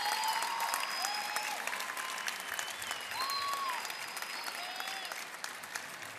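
A crowd applauds a university delegation at the opening ceremony of a university games, a distant, sustained patter of clapping with a few whistles and cheers riding over it.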